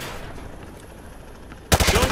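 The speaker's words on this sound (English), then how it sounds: "Grab that weapon off the table and fire at the targets behind you." A weapon fired at targets in a shooting-range scene from Call of Duty Modern Warfare 2 Remastered, a brief rapid burst of loud shots cutting in near the end after a quiet ambient stretch.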